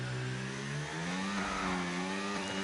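A Ferrari Formula 1 car in a racing video game leaving the pits, a short rising engine whine with stacked harmonic tones climbing in pitch as it accelerates, fairly faint and without talk.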